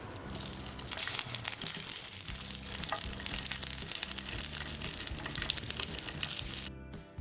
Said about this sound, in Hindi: इसमें हम मिर्ची डाल लेंगे और हल्का सा तेल में हम इसे तल लेंगे